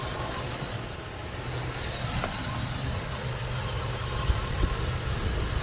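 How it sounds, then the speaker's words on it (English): A 2004 Dodge Ram 1500 engine with a new alternator, running steady and then given a little throttle, a continuous low hum with a faint high whine, close by and with no talk. "let's see what it is with a little bit of throttle"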